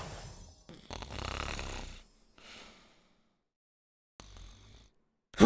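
Snoring comes in a few rough, breathy bursts separated by short silences, fairly close and moderate in level. It is most likely a person imitating snoring during play of Spyro 3: Year of the Dragon.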